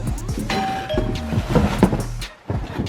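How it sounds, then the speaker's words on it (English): A doorbell chimes with clear electronic tones in the first second and a half, close and moderately loud, followed by some household knocks. "we got somebody on the bell"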